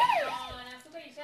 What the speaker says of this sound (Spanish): Está llegando la ambulancia, dicen.